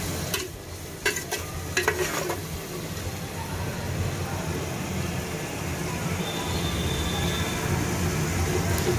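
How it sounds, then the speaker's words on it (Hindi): A veg biryani mixture is stirred and fried in a pan, giving a steady sizzle with a few sharp spoon scrapes early on. A voice talks faintly in the background. "अब ये लगभग हो चुका है, तो हम इसको थोड़ा सा चला लेते हैं।"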